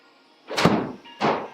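Golf club striking a golf ball, two sharp close impacts about half a second apart, each with a short ringing tail.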